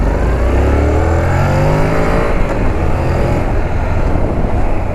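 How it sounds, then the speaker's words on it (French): A 2019 Honda NC 750 S twin-cylinder motorcycle accelerates hard nearby, its loud engine note climbing steadily in pitch through a continuous, rumbling run. "Qui accélère ma foi bien, hein, l'avantage d'avoir un bicylindre."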